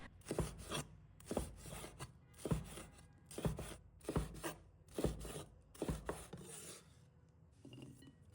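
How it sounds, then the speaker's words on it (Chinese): A knife cuts red chilli pepper into small pieces on a cutting board in about eight even, rasping strokes, steady and close, with no talking. "再准备红辣椒，把它切成小块。"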